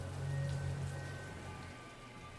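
Rain falling in Yakuza 0, a soft steady patter of rainfall with a low hum beneath, heard alone without talk.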